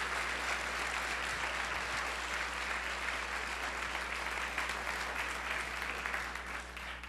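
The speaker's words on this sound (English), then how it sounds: "You guys got to give these guys a big round of applause for what they put together." A high school audience applauds a student program, with dense, even clapping that holds steadily for several seconds and tapers slightly at the end, over a low steady hum, with no one speaking.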